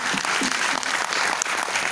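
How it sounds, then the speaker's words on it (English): Audience at the opening of Google I/O Extended Kuala Lumpur 2019 applauds in a loud, dense, continuous burst of clapping, close and filling the room. "give yourself a round of big applause for coming out this year"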